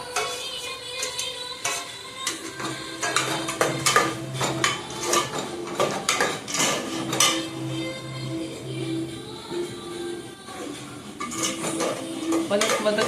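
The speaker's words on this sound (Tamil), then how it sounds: "போட்டு நல்லா இப்படி வதக்கிக்கலாம்" Small onions are sautéed and stirred in a pan while a prawn curry is cooked, with a spoon repeatedly scraping and clinking against the metal pan in an irregular, close rhythm.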